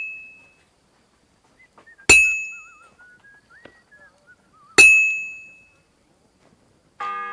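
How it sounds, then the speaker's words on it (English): Bells ring out in the medieval video game Kingdom Come Deliverance 2, with three sharp, bright metallic strikes spaced a few seconds apart and a soft whistled melody sounding faintly between them. "The first bell. Another 11 to go."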